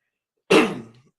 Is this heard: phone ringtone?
no